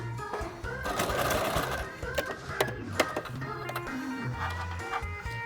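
A sewing machine stitches a minidress belt in short, rapid mechanical runs with brief pauses, close and fairly quiet.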